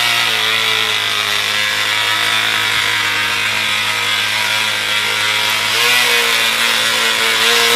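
The small restarted engine of a miniature pedal railway runs steadily with a loud, buzzing drone at an even pitch, close and continuous, with no speech.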